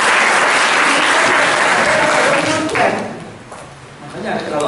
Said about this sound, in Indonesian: Tepuk tangan untuk pesantren.